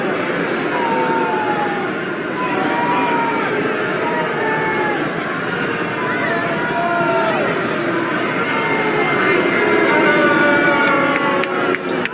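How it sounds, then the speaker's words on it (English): Large crowd at the 2022 Texas GOP convention booing a senator, a dense sustained roar of jeers and shouts with a voice talking over it throughout. "He can't even speak for how bad he's getting booed."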